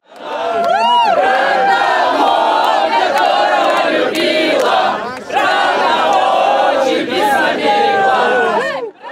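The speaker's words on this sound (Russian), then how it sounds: "На трибунах было отчетливо видно и слышно африканских фанатов" African football fans cheer loudly in the stands at the 2018 World Cup in Russia, with a dense roar of chanting, whoops and whistles sustained throughout.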